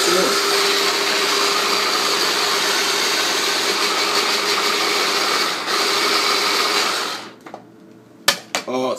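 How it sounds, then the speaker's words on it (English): A blender whirs loudly and steadily through a dill sauce aioli with olive oil, motor droning close for several seconds with a brief dip in pitch, then winding down to a stop followed by a few clunks. "And I'm going to go ahead and blend it up some more."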